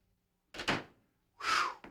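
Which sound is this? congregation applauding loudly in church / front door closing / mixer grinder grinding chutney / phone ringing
front door closing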